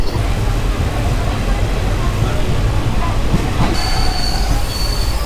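A train on the Kolkata–Nabadwip Dham line runs with a loud, steady rumble of wheels and carriages throughout, and a thin high wheel squeal joins in for the last second and a half.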